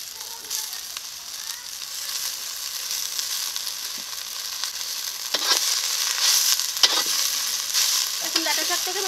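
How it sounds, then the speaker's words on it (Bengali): Amaranth stem greens frying in a wok, where garlic, onion and dried chilli were fried before them. A steady, fairly close sizzle runs throughout with occasional scraping stirs and no talking. "এখন ডাঁটা শাকটাকে ভালো করে ভেজে নেব।"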